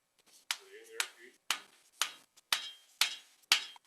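A soft hammer, its top taped, strikes a wooden tool handle in eight sharp, evenly spaced taps about half a second apart, close and fairly quiet, with faint voices between blows.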